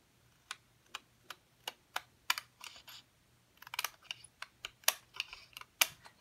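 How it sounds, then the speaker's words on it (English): Scissors cut through paper to trim a filmstrip-style border, making a steady run of crisp, close snips about every half second, with a busier cluster of cuts near the end and no talking. "using scissors, we're going to cut the flags and the hills off of the outside"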